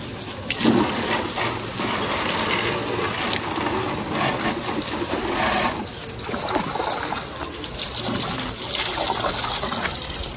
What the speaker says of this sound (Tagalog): Linis tayo ng motor.